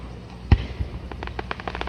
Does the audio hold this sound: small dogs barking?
no